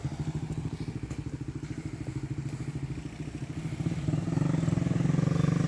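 A single-cylinder motorcycle engine chugs in a fast, steady putter, close and loud, its pitch and volume rising toward the end as it pulls away; no talking.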